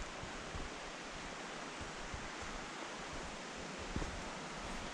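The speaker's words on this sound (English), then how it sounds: "not too far from the top of the little waterfall" A small waterfall on Vancouver Island, heard from near its top, gives a steady, loud broadband rush of falling water. It continues evenly without pause, with no voices.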